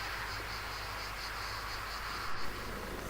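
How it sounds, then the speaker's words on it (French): Cicadas sing in a Landes pine forest under the midday heat, a steady, dense buzzing drone that holds evenly throughout with a faint pulsing shimmer and no voices. "bruit du chant des cigales."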